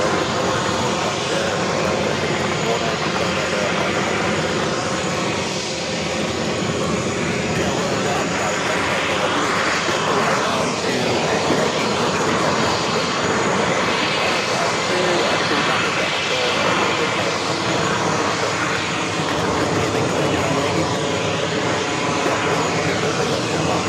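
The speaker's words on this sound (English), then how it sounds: "Delta heading to Athens, A330-300, number 3 now for takeoff." A Delta Airbus A330-300 taking off from JFK, a steady loud roar of jet engines sustained throughout, broad and continuous without pause.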